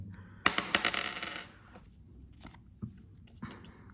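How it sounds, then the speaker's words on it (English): A coin flipped for a board-game activity lands and rattles to a stop with a short run of bright metallic clinks, followed by faint scattered taps. "For the first card, I will be flipping the coin."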